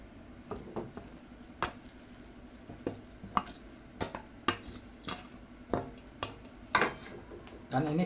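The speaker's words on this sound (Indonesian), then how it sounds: "Ini kita aduk-aduk ya sampai menyusut dan mengeras untuk wajitnya." Glutinous rice and sugar syrup for wajit are stirred in a pan, a spoon knocking and scraping the metal in a steady series of distinct clacks over a soft sticky squish, close by.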